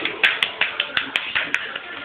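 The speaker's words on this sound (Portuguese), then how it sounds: "Palmas, produção" A production crew claps together in a quick, steady rhythm of sharp, evenly spaced claps, close and fairly loud in a room.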